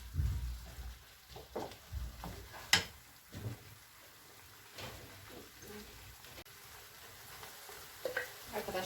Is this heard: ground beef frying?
yes